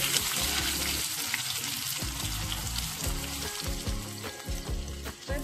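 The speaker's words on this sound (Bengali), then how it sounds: "এবার পেঁয়াজটা লাল করে ভেজে নেব," Chopped onions frying in hot oil with cumin, cardamom and cinnamon for a mutton curry, a steady close sizzle with repeated stirring scrapes in the pan and no talk.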